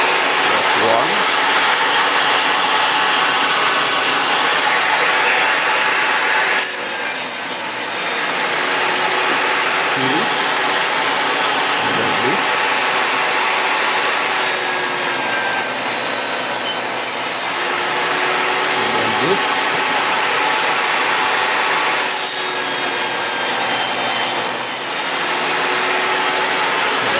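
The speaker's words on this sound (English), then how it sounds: "I'm going to cut all 4 edges to give it a bevel" A power saw cuts bevels along the edges of scrap wood, running as a steady loud whine for the whole stretch with brief bursts of harsher cutting noise as the blade bites into the wood.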